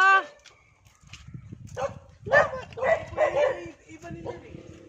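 Dogs outdoors on Siargao give several short barks and yips at moderate distance, mixed in with people talking nearby.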